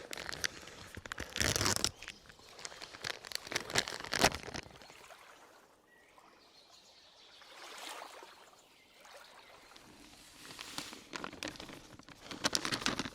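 Wet, crunchy mixing and crinkling bursts of fishing groundbait for crucian carp, close and fairly loud, with a quieter lull in the middle before the rustling mixing picks up again.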